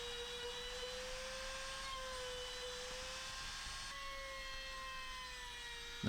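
A power tool cuts steadily through plywood while building a homemade child's farm, giving a continuous high whine with a steady tone and no pauses, then a brief louder burst at the very end.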